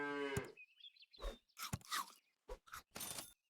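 Cartoon cow in Super Auto Pets gives a drawn-out moo, followed by a string of short crunchy chewing and munching bursts with quick gaps between them.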